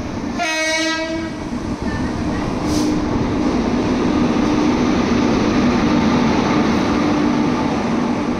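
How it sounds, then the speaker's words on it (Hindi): A train pulls into a railway station with a short horn blast near the start, followed by a loud, steady rumble and rolling rail noise from close by. "फाइनली यहाँ पर ट्रेन आ चुकी है हमारी"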